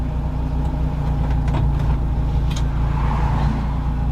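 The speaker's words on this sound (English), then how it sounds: "Car." A car passes through steady road traffic with a continuous low engine and tire rumble, and brief faint higher sounds flicker over it now and then.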